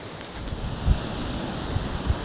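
Sea waves washing onto a local coastline near a river mouth and breakwater, a steady broad surf roar with a few soft thumps of breaking water, mixed with gusts of wind on the microphone.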